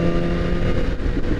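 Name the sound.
BMW S1000RR motorcycle revving through the gears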